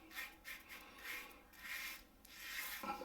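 A razor blade scrapes across stubble on skin in repeated rasping strokes, about five even passes with short pauses, close and quiet with no talk.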